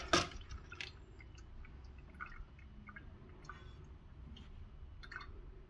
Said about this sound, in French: On tire vers soi et le liquide commence à s'écouler